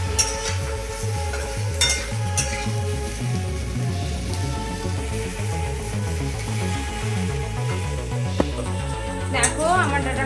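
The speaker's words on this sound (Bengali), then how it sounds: "এভাবে ভালো করে নেড়ে চেড়ে ভেজে নিতে হবে, যেন নিম পাতাগুলো সজনে ডাঁটা সব সজনে ডাঁটা লেগে যায়" Drumstick pieces and neem leaves are stir-fried in a pan with a low sizzle and occasional scraping clinks of the spatula, all under a steady, rhythmic background beat.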